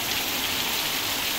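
Heavy, thick rain pours steadily at night outside a home, a continuous close-up hiss with no voices and no distinct thunder.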